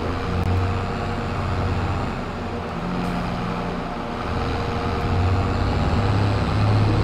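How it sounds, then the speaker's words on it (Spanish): A Massey Ferguson 290 tractor in the Farming Simulator video game labors under load while harvesting forage, a continuous low engine drone that swells and drops, rising louder near the end. "Ah, ya le está pesando al tractor ahora sí."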